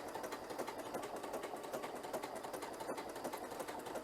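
A Continental M7 sewing machine stitches a tiny zigzag pattern in a steady, rapid mechanical whir. Even needle clatter repeats throughout at an unchanging speed, fairly close, with no voices.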